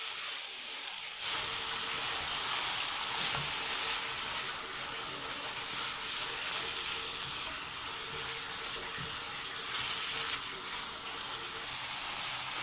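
Carrot halwa with khoya roasting in a pan gives a steady, soft sizzle and hiss, close and even, with faint stirring scrapes throughout.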